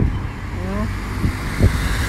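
Cars pass close by on a highway, loud rumbling road noise with a couple of engine swells and whooshes, alongside nearby human voices.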